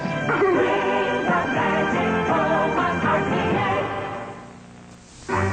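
A dog barks and yips in a 1987 dog food commercial for T-Bone, with short excited barks over music that fades before a brief swell near the end.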